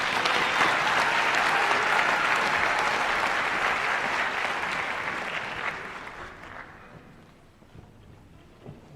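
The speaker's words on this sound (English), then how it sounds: "Let's give our graduates another round of applause." Warm audience applause for nursing graduates at a school pinning ceremony, strong and steady at first, then gradually thinning out and tapering to scattered claps by the end.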